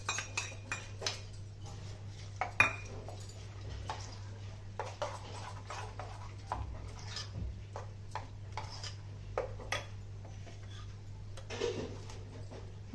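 A spoon scrapes and clinks against a bowl while cucumber tomato chutney is mixed with tempering, making a quiet, irregular run of taps and scrapes over a low steady hum.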